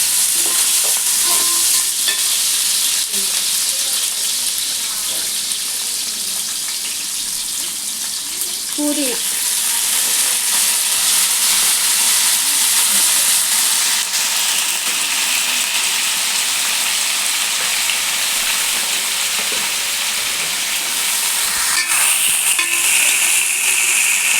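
Onions and green chillies fry in a pan for a Telangana-style bagara chicken curry, giving a steady, loud sizzle with occasional stirring scrapes that runs throughout without pause.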